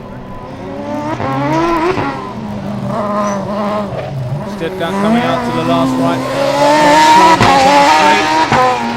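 A Stuttgart Formula Student race car at the FSG 2012 autocross brakes into the final right-hand corner. Its engine whines loud and close, the pitch sliding down and climbing again, while a commentator talks over it.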